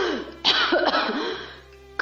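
A man chokes out a harsh cough and throat-clearing, gasping for air after surfacing from water as a ship sinks, the close, strained bursts followed by a ragged breath.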